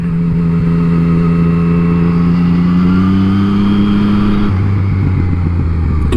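A Yamaha MT-09 motorcycle engine accelerates hard, loud and close. Its droning pitch climbs steadily, then drops sharply after a gear change and settles low again, with no voices over it.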